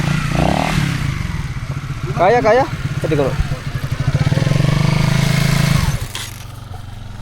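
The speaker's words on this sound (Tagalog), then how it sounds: "So yung motor, ipapark natin dito." A motorcycle at the foot of a mountain in Sulu idles and revs close by, then the engine cuts off and goes quiet, with people talking over it.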